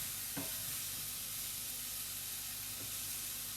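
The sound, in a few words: mushrooms sautéing in a pan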